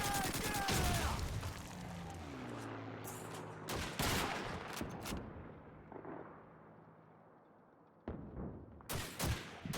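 Gunfire and explosions in the Call of Duty 2 video game on Xbox 360, with a heavy blast at the start and loud bursts that fade to a lull before more sharp shots near the end.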